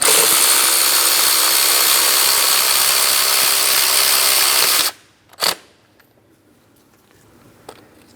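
A ratchet and 18mm socket snug and torque a bolt to 48 foot-pounds on the right side valve cover of a 2003-2007 Cadillac CTS 3.6L V6. A long, loud, steady mechanical rasp runs nearly five seconds, then one short sharp click and a faint tap.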